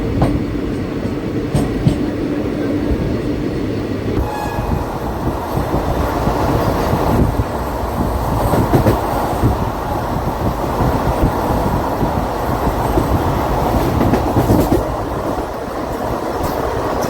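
The 16053 Tirupathi Express on the Chennai to Tirupathi line rolls along its rails with a loud, continuous rumble and rattling wheel clatter, heard from on board with a few sharper knocks along the way.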